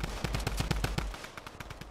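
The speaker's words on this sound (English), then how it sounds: "Oh, they shooting me." Rapid gunfire in the battle royale game Fortnite, a quick burst of about a dozen sharp close shots in a fast rhythm that breaks off into a few scattered shots.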